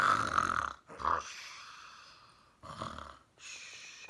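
A person mimics snoring with drawn-out, rasping breaths in a slow rhythm, each long wheezy inhale followed by a pause.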